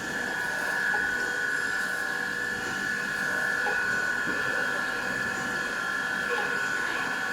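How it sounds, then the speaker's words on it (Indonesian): A surface grinder, type FMG-2550AH, making light spark-out passes to clear leftover grinding marks on a parallel pad: a steady, even whine over continuous airy hiss, unchanging and fairly loud throughout. "tetap dilakukan proses spark out tadi, membersihkan sisa-sisa gerinda"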